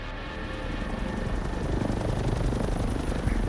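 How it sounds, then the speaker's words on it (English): A helicopter drones steadily with a rotor thrum, loud and close, during a drop-off onto a gas station rooftop in the Call of Duty Black Ops 6 Zombies map Liberty Falls; no voices. "You'll get dropped off via helicopter onto this gas station rooftop"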